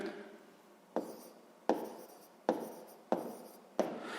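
Handwriting while listing the divisors of 24 in a sixth-grade maths exercise: five or six sharp, fairly close pen or chalk strokes arrive at an even, unhurried pace with short pauses between them.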